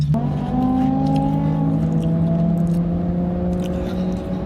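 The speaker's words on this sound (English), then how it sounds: "If you can hear that really loud whiny, I'm following these three cars" Loud, whiny car engines drone steadily with rising and falling pitch, several vehicles running together close by.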